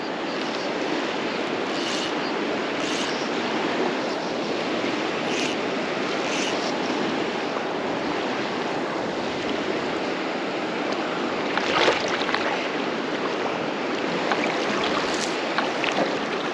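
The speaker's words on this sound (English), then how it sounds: "The water over here is obviously very rough, very choppy." Rough, choppy water slaps and washes steadily around a small boat, a dense broadband wash that stays constant throughout, with a few brief splashes standing out near the end and no talk.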